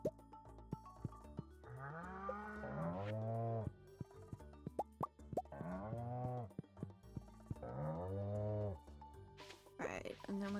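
Cows in a farming video game moo repeatedly in long, loud, drawn-out calls, punctuated by sharp plopping game sound effects and little gaps between calls.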